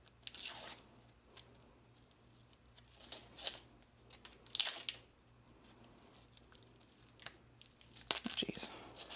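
Tomato skins being peeled by hand for homemade tomato soup, giving soft, moist tearing and crinkling bursts that come a few at a time with quiet gaps between them, close up.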